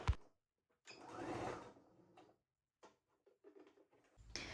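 A sewing machine overcasts a trouser seam in short, quiet bursts of rapid stitching separated by pauses, with faint clicks and handling noises in between.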